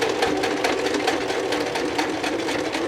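A sewing machine runs zigzag stitching across a denim jeans pocket for an upcycled purse, a steady, fast mechanical chatter with rapid regular needle beats, close and continuous with no talking.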